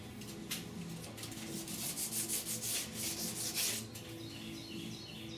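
Sanding block rubbing rhythmically back and forth over primer surfacer on the rusty, pitted steel roof of a 1969 Chevrolet C10 truck, a close, steady series of raspy strokes, with faint birds chirping in the background.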